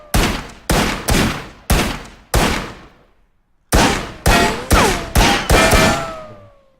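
Firearm gunfire in a video game under development: about ten loud, sharp individual shots fired in two bursts separated by a short pause, each shot decaying quickly, with no voices.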